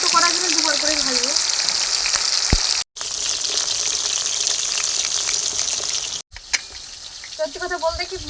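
Catla fish fries in hot oil in a small wok for a second batch, a steady close sizzle with a short break partway through and faint voices over it toward the end.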